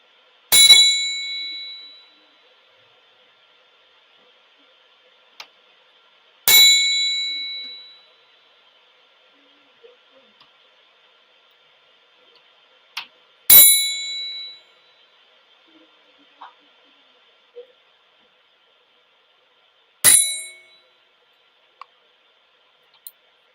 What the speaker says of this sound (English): Let the chime go around you, through you,